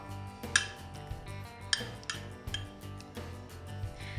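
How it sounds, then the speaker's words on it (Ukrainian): A cake dessert mixture with cherries is stirred in a bowl, with a few sharp clinks of a utensil against the dish over a soft steady scraping, close and fairly quiet, without talk. "І усе перемішуємо"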